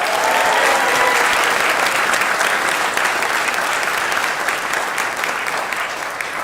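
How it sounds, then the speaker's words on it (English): Audience at a Newport News city announcement event giving a round of applause, a full, steady wash of clapping from a large crowd, loud and continuous for several seconds. "let's give them a round of applause"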